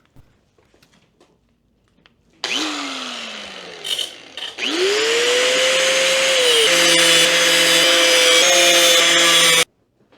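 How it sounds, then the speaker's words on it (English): A power grinder bites into protruding screw tips poking through a wooden back panel, spinning up with a rising whine, cutting off briefly, then screaming loudly and steadily in a harsh grind before stopping abruptly. "so they poked out the backside, but we can just grind those down"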